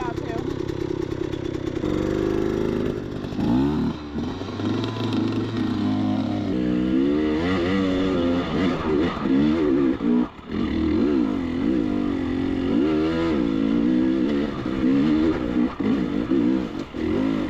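A dirt bike engine revs hard on slick rock, loud and close throughout, its pitch climbing and falling in repeated rises as the rider works the throttle and gears, with a brief voice at times.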